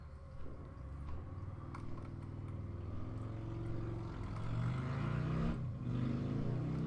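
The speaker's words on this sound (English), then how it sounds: "You don't have to sit outside my window revving your bike." A motorcycle idles and revs outside a window, a sustained low engine drone that swells in pitch and loudness, heard from indoors at a distance.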